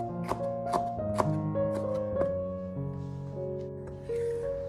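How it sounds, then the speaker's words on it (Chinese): A kitchen knife cuts red pepper into thin strips on a cutting board, producing a series of soft, irregular taps under a steady background tone. "然后把红椒切成红椒丝，切成和藕丝差不多粗细就可以了。"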